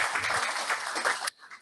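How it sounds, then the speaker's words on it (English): A short round of applause for a young man at a breakfast gathering, a crowd of hands clapping densely and fairly close for just over a second before cutting off to a few scattered claps. "Let's give this young man a round of applause."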